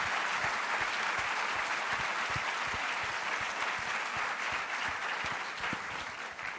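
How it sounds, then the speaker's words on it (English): Sustained applause fills a hall at a live-streamed event, a thick, even roar of many clapping hands held for several seconds before easing slightly at the end. "I first want to give everybody a big round of applause."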